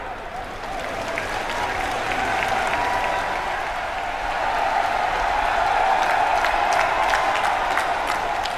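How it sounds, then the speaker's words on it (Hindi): A large crowd at an outdoor political rally in Aligarh applauds, a broad, continuous wash of clapping that swells gradually over several seconds, with some cheering mixed in. "जोरदार तालियां बजाएं।"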